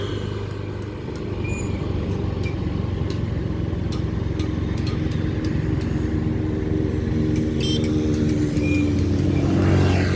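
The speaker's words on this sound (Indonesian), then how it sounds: "Nah ini ada motor yang masuk ke dalam" A motorcycle rides onto the Padang–Sicincin toll road in West Sumatra, its engine a steady continuous drone mixed with passing road traffic, holding fairly loud throughout and swelling slightly near the end.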